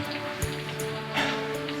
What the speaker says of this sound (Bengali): বাইরে তো বৃষ্টি একটুও কমছে না, বেড়েই চলেছে সমানে